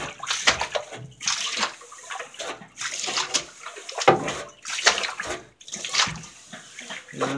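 Fresh water pours and splashes into an animals' water dish in a barn or coop, a steady running gush broken by sloshing bursts, close and fairly loud with no talking.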